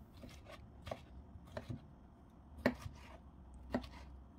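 A knife chops peeled tomatoes into large chunks on a board, giving quiet, irregular knocks spaced about half a second to a second apart in a calm kitchen.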